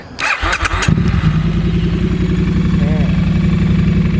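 A 2017 Triumph T100 classic motorcycle starts up: a short cranking burst, then the engine catches and settles into a steady, loud, close idle, with someone speaking briefly over it.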